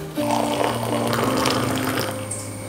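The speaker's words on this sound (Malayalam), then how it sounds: "തിളച്ച വെള്ളം ഒഴിച്ചു കൊടുക്കാം." Boiling water poured from close by onto green tea leaves in a cup, a brief steady trickle whose tone rises as the cup fills, lasting a couple of seconds.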